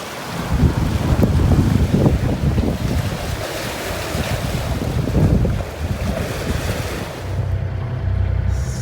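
Strong wind gusts and surging waves roar around a sailboat at sea between the Turks and Caicos and the Dominican Republic, a loud continuous rush with buffeting wind noise on the microphone and swells rising and falling.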